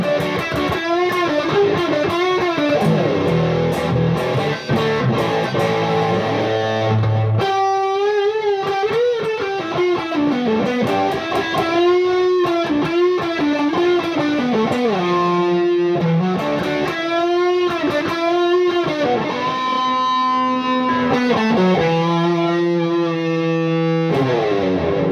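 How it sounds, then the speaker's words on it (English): Electric guitar runs through a T-Rex Magnus pedal set to overdrive, delay and reverb, a saturated tone with bending sustained lead notes and chord stabs that trail off in echoes, loud and without voices. "Overdrive, delay, and reverb."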